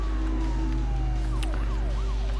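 Police sirens wail and sweep in Need for Speed The Run over a loud, constant engine drone, the rising and falling tones overlapping throughout with no talking.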